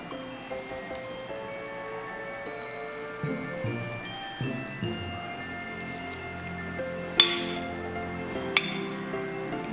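A knife cuts panettone pudding on a plate, with soft scraping and a few light utensil clinks, then two sharper clinks near the end in an otherwise quiet kitchen.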